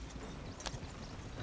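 Horse hooves clip-clop softly in Red Dead Redemption 2 while a horse is backed up, faint and low under a steady wash of background game ambience.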